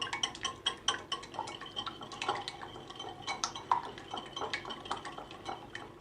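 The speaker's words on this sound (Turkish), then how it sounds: "İlk önce yumurtamı kaseme koyuyorum. İyice çırpıyorum." Eggs are beaten in a bowl to start a sauce for a Turkish rose börek, with rapid continuous clinking and tapping of a whisk or fork against the bowl that stays close and steady throughout.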